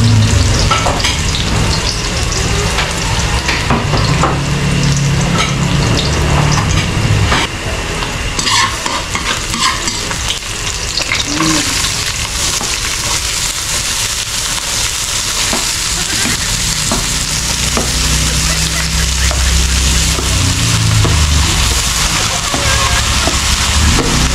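Onions and garlic frying in a pan, a loud, dense sizzle with continuous stirring and scraping that runs close throughout, with a voice faintly present beneath it.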